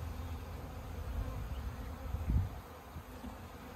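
A low, steady buzzing of many bees hums throughout, with a slightly louder swell near the middle.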